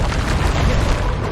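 Bombarda spell explosion in the video game Hogwarts Legacy, a dense, loud booming blast with rumbling low end filling the whole brief moment.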